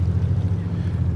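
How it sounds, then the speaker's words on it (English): Passenger ferry engine driving the vessel through calm water, a loud, steady low thundering rumble that holds throughout without pause, with a faint hint of water and wind. "All that noise, all that thundery noise, that's from the ferry."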